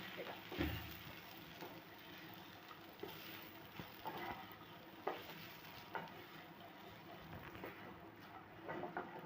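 Okra sizzles steadily as it fries in a pan while a spoon stirs it with occasional scraping clicks, close and moderately loud.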